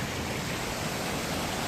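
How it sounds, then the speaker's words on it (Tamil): A forest waterfall in Kanniyakumari District pours with a loud, dense, continuous rushing roar, near and unbroken throughout. "அப்படி வாட்டர் ஃபால்ஸ் தண்ணி பாஞ்சு போகுது, சுத்தமான தண்ணி"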